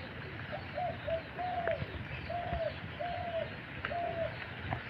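A pet dove cooing nearby, a series of about six soft, drawn-out coos repeated in a loose rhythm over a quiet background hiss.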